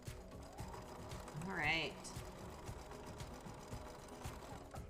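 Sewing machine stitching quilt pieces, a quiet steady mechanical whir and clatter running throughout, with a brief soft spoken remark.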